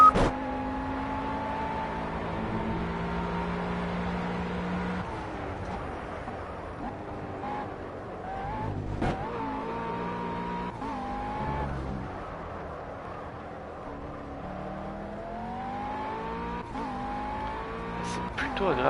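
A GT3 race car in the racing game Project CARS, its engine revving and shifting through gears with bursts of tire squeal, a continuous close, fairly loud in-car roar.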